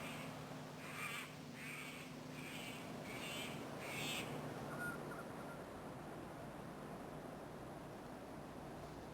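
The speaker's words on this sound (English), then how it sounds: "The mangrove kingfisher is also known as the collared kingfisher." A mangrove kingfisher, also called the collared kingfisher, calls in Queensland mangroves with a run of about five harsh, evenly spaced notes that then fall silent, heard at moderate distance over a steady background hiss.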